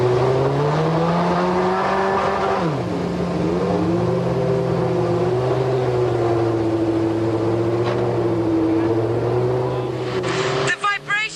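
A 1998 Formula One car's 4-litre Cosworth V8 starting up, roaring and droning steadily at close range, its pitch dipping and rising, before a sharp burst of revving near the end.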